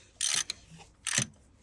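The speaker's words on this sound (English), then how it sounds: "I'm now going to go ahead and take those bolts out." Two quick bursts of ratchet clicking come close and quiet as E14 bolts are undone on the water pump housing of an OM651 engine in a Mercedes C220 CDI W204.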